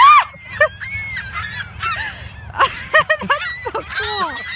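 Geese honk repeatedly while being fed outdoors, a chorus of loud, overlapping calls in bursts, some close and some farther off, with people talking quietly underneath.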